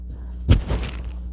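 A single soft thump and brief rustle of fabric being flapped out, close by, fading quickly.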